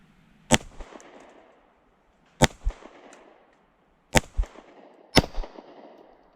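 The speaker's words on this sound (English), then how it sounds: "So, shoot it with one hand, guys." A Kimber KDS9C pistol fired one-handed: four sharp, loud shots spaced about one to two seconds apart, each with a short echoing tail, heard close with no talk.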